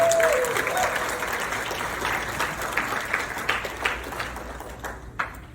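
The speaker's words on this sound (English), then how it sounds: "Can you give them a big round of applause?" An audience at a graduation speech applauds steadily for several seconds, a dense wash of clapping that gradually thins toward the end, with a few sharper claps standing out near the close.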